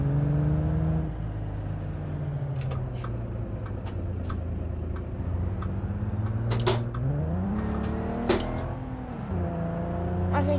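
Car engine in BeamNG.drive, a steady low drone with harmonic lines that rise as it revs and shifts, continuous and close throughout, with a few brief clicks over the top.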